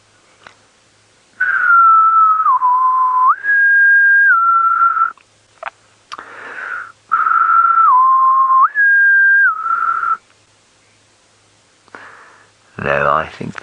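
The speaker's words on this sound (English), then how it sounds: "I'll just do a little whistle." A person whistles a simple repeated tune in steady held notes during an early-morning safari drive, two clear phrases separated by pauses, close and loud over near silence, with a short breathy sound at the end.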